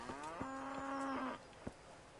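A cow in Kingdom Come: Deliverance gives one long, clear moo that holds steady for over a second and then breaks off, heard alone with a few faint clicks around it.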